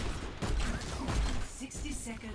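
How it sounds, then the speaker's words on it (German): Overwatch gunfire on the Junkertown map: rapid, dense shots and mechanical clatter in uneven bursts, moderately loud, with some faint game voices mixed in. "woher kommen die ganzen Schüsse?"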